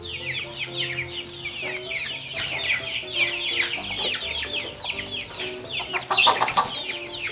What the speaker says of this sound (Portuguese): Esse aí é o frango gigante.